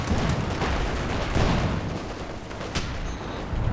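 Battle noise in Company of Heroes 2: dense, continuous gunfire and artillery, rapid bursts and booms packed closely together at a loud, steady level.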